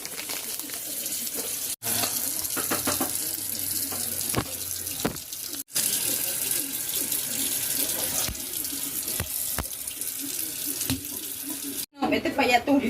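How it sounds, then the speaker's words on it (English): Tap water runs steadily into a sink while raw chicken is rinsed, a continuous close splashing broken by brief stops, with a voice speaking faintly at times. "Clean your chicken with water"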